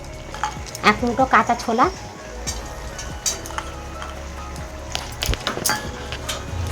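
Spinach stirred in a frying pan, with clinks of a spoon against the pan over a low sizzle, and someone talking through parts of it.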